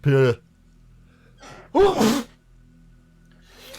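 A single sneeze: a voiced intake then a sharp, breathy burst, loud and close, with a short throaty sound before it.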